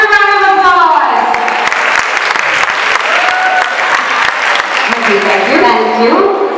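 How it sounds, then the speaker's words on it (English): An audience at an Ugadi festival stage show breaks into sustained applause after an energetic performance, loud and dense clapping with cheers, with a voice speaking over it near the start and end. "Another round of applause"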